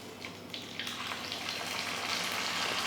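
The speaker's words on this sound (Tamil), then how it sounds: "எண்ணெய் ஊற்றி பணியாரத்தை மொறு மொறு மொறுன்னு வேக வச்சு எடுக்கணும்" Paniyaram batter frying in hot oil in a paniyaram pan makes a close, steady crackling sizzle that grows slightly louder and fills the whole moment, with no talking.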